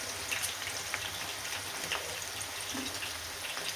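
Onions frying in a generous amount of oil for a homemade masala, a steady dense sizzle and crackle with soft scattered pops, constant and close throughout with no talk.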